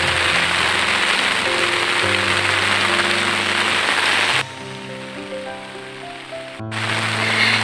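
Steady rain pours down in a dense, hissing wash on a hot day outdoors, loud and continuous, easing briefly before returning at full strength.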